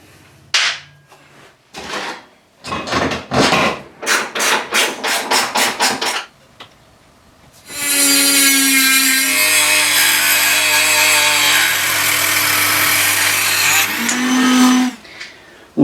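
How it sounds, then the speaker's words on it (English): A Dremel rotary tool cuts off bolt heads on a Suzuki Hayabusa, grinding in short rhythmic bursts, then running continuously with a high-pitched whine and harsh metal-cutting screech, loud and close. "So next up, Dremel."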